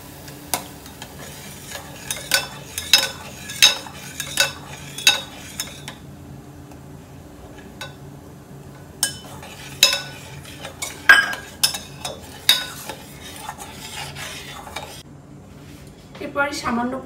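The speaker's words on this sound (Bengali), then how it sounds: "এরপরে আমি এই ডিমের সাদা অংশটা দেব আর নাড়তে থাকবো।" A spoon stirs egg whites into boiling water in a metal pot, making a run of sharp, close clinks and scrapes against the pot with quieter pauses between bursts of stirring.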